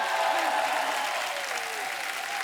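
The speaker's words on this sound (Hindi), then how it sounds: "एक बार जोरदार तालियां हो जाए टीम सर्कस के लिए।" A studio audience at a comedy talk show gives a steady round of applause for the Circus film team, a dense, even wash of clapping with faint cheers and whistles rising through it.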